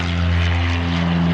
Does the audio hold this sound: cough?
no